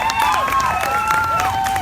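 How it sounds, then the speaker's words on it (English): An audience at the 2016 Rice County Fair queen coronation applauds a contestant, a brief, loud burst of steady clapping with rising and falling whistles over it. "Yes, you can applaud."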